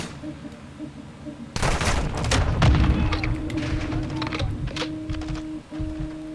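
A 40mm grenade explodes in the video game Modern Warfare 2: a sudden loud blast, then a few seconds of rumbling, crackling debris and scattered battle noise, with no talking.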